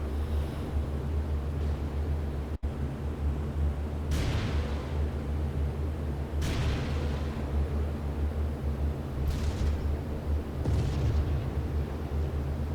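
Enemy ground fire and explosions in the IL-2 flight sim, a series of muffled booms and bursts spaced a few seconds apart over a steady low aircraft engine drone, with one sharp crack early on.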